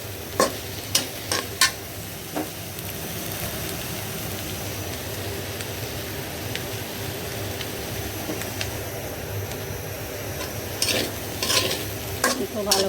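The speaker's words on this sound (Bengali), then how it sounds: "একটু ভালো করে নাড়াচাড়া করে দিব, মিশিয়ে দেবো গুঁড়াটা পাঁচফোড়নে।" Panch phoron spice mix fries in a pan with a steady sizzle while a utensil stirs, with a few sharp scraping clinks at the start and again near the end, and no talking.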